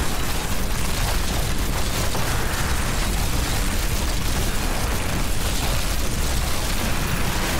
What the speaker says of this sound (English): Watch out, explosions.